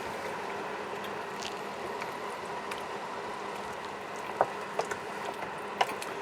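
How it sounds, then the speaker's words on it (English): Beef goulash with tomatoes stirred in a pot: a steady low simmering bubble runs throughout, with a few faint spoon clicks against the pot toward the end. "I'm going to give that a little stir"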